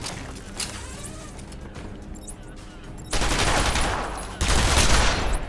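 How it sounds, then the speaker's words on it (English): Bursts of automatic gunfire in the video game Batman Arkham Asylum, quieter at first and then two loud, sustained volleys near the end, with no talk over them. "Anybody hear those gunshots?"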